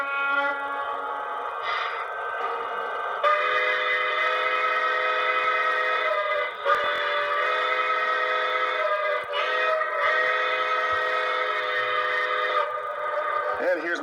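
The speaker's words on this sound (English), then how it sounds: "It has one horn and three whistles." A steam engine's horn and chime whistles sound in several sustained, fairly loud blasts, each holding a steady multi-tone chord before cutting off and restarting.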